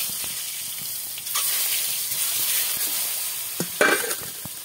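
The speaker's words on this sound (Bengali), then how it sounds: "ডিমগুলোকেও ভেজে নেব।" Slit hard-boiled eggs coated in turmeric fry in hot oil, making a steady close sizzle broken by stirring clatters and a sharper spattering burst near the end, with no voices.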